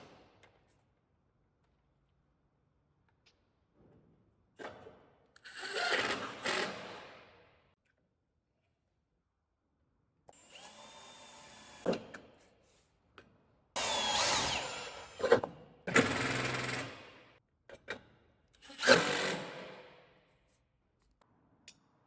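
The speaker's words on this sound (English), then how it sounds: "so I'll go ahead and put the second screw in now." A power drill drives a screw into external corner cladding, sounding in several short whirring bursts separated by pauses. Faint clicks and handling noises fall between the runs.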